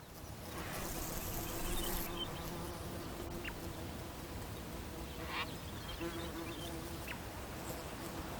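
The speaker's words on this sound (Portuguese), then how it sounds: "A mosca Megapalpus é o seu único polinizador." A Megapalpus fly buzzes steadily among orange Namaqualand flowers, a thin continuous insect drone over a busy outdoor background, with a few brief faint clicks and chirps scattered through it.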